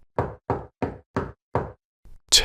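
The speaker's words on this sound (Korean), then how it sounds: "삐걱이는 낡은 울타리 문을 두드리는 소리" Knocking on an old, creaking wooden fence gate on a rainy night: five firm, evenly spaced knocks, close and loud, followed by a soft thud and a sharp final rap.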